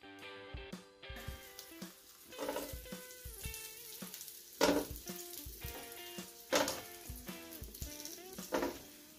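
Slices of sucuk sausage fry in a hot pan, a continuous sizzle punctuated by several louder bursts and stirring clatters at irregular intervals, close and without talk.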